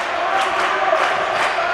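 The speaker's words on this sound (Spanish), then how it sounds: "Aplaude el público del pabellón Ciudad de Algeciras. Anima a los suyos." Home crowd in the Ciudad de Algeciras handball arena applauding and cheering during a close handball match against BM Pozoblanco, a loud, continuous roar of voices and claps filling the hall.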